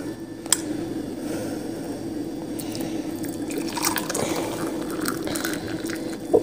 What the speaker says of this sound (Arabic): وتجيبي مية سخنة،